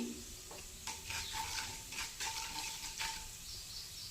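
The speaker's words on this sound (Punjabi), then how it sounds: "ਇਹਨਾਂ ਨੂੰ ਪਾ ਕੇ ਹਲਕਾ ਜਿਹਾ ਇਹਨਾਂ ਨੂੰ ਭੁੰਨ ਲੈਣਾ ਹੈ ਤੇ ਬਾਅਦ ਵਿੱਚ ਪਾ ਦਿੰਦੇ ਆ ਪਲੌਂਜੀ" Mustard seeds, spices and nigella seeds lightly frying in a pan for a Punjabi watermelon-rind sabzi: a steady close sizzle with soft stirring scrapes throughout, no voices.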